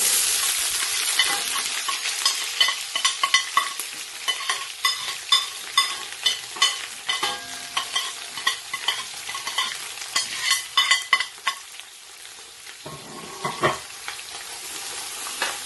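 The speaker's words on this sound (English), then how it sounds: "The oil is hot. Now I'm gonna put the brown onion, add bad eye chili, ginger, grated garlic." Brown onion, bird's eye chili, ginger and grated garlic frying in hot oil while being stirred for a king prawn chow mein, with a steady close sizzle broken by scraping, clattering utensil strokes.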